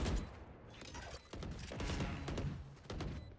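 Valorant match gunfire in the middle of a round, with rapid bursts of shots and thuds crowding together over a busy game mix, fairly loud and continuous.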